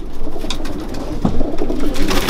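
Racing pigeons cooing in a breeder's loft, a steady overlapping murmur of soft coos with a slightly louder burst near the middle, close and continuous with no talk.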